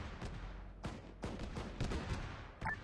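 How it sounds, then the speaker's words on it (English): Explosions and gunfire in a military video game, heard as a series of sharp, fairly faint blasts and cracks spaced irregularly across a few seconds. "Just had an explosion to the southwest."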